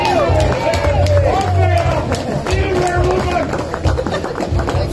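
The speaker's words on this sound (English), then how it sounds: "It's quite a cheering section for her." A crowd at the 2019 Arnold Classic armlifting championships cheers and claps for a Finnish woman competitor, a steady roar of voices and applause filling the hall throughout, with an announcer's voice over it.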